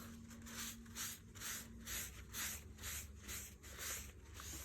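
A tissue rubbed firmly back and forth over eyeshadow swatches on skin, making soft, close, rhythmic brushing strokes about twice a second, quiet and alone.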